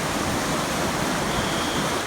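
Swift Creek, near the Swift Creek Mill Theatre, gives a steady, dense rush of flowing water, continuous and fairly loud with no other sounds.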